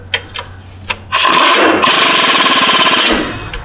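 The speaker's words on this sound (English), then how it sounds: "I like to use a 3/8 impact with a beef 15 wobble socket." A few light taps, then a loud, steady buzzing 3/8 impact wrench with a wobble socket drives a bolt for about two seconds before winding down, close by.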